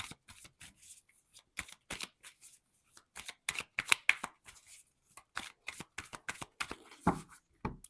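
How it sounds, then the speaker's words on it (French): Cards being turned over and handled for a tarot-style card reading, a quiet run of soft, crisp flicks and slaps that come in irregular quick clusters, close up and unaccompanied by talk. "On va voir de quoi il s'agit en recouvrant les cartes."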